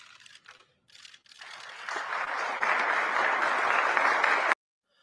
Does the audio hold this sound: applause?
yes